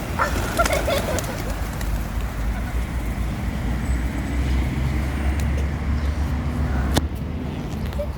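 Pigeons coo near a railway station at the Baltic seaside in Sianożęty, Poland, while a gull moves in to chase them, all set against a steady wash of traffic and outdoor noise.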